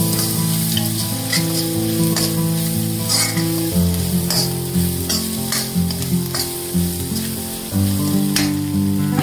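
Turmeric powder stirred into hot oil in a pan while cooking takla greens, a steady close sizzle and frying hiss with soft scraping stirs throughout, no voices.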